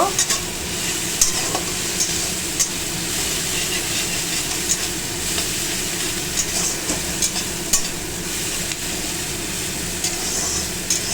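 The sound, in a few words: stirring onions frying in a pan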